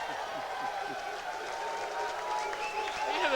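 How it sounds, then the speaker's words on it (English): A crowd at a 1996 9-ball pool match between Jim Rempe and Efren Reyes applauds and cheers in a sustained wash of noise, with commentators talking over it. "The crowd is going crazy here."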